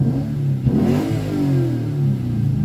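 A Lexus IS F engine with its catalytic converters deleted revs up and settles, a loud, continuous mid-pitched exhaust note that rises in pitch and falls back, with no talk over it.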